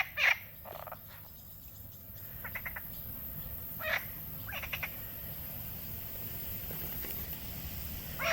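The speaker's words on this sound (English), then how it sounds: "it's the frogs calling to each other." Little frogs call to each other on Kefalonia, their short pulsed croaks coming in scattered bursts over a steady hiss of outdoor ambience, moderately distant and with no talking.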